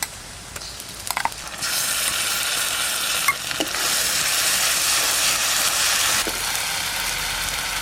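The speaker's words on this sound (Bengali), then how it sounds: "আদা রসুন বাটাটা দিয়ে দিচ্ছি।" Ginger garlic paste added to hot oil with chopped onion, frying in a pan for mutton kosha, giving a steady loud sizzle with brief stirring clatter near the start.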